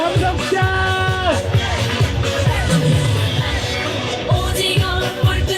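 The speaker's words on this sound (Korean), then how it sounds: "독도를 일본에 팔아넘기려는 윤석열을 향해 함성을 지릅시다. 함성시작!" A large crowd roars in unison at a candlelight rally in Gwangju, shouting against Yoon Suk-yeol over Dokdo. The dense, sustained wall of voices runs throughout, with scattered yells and whoops rising above it.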